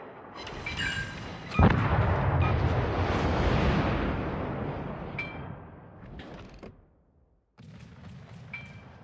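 Naval gunfire in the World of Warships game during destroyer play: a sharp heavy boom leads into a long rolling roar of cannon fire that fades out, followed by more rumbling salvos.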